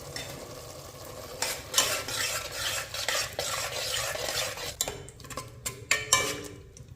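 A spoon stirs an onion, tomato and herb masala in a pan for a chicken biryani, steady scraping strokes over a continuous sizzle, with a few sharper clinks of utensil against metal near the end.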